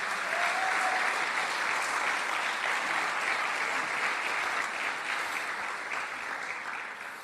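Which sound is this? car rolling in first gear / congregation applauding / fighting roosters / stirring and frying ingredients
congregation applauding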